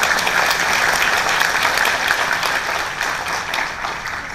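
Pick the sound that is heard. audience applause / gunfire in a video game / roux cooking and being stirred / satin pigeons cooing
audience applause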